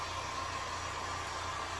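A heat gun or hair dryer blows warm air over a painted Jordan 1 sneaker, a steady close whooshing hiss with no other sound.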